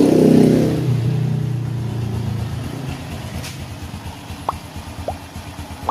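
A Honda Blade motorcycle engine idling after repair, a loud steady low rumble that starts strong and settles slightly, with a few faint clicks near the end.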